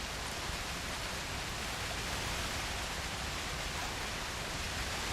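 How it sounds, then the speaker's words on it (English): A waterfall in the Red Dead Redemption video game gives a steady, dense rushing roar that stays even and unbroken throughout, with no voices. "And you just kind of walk in behind the waterfall."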